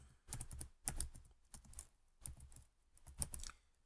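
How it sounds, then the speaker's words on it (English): Keys clack on a computer keyboard while HTML code is entered, a quiet, close run of uneven taps in short bursts separated by brief pauses. "So I'm going to start typing my basic code for HTML5."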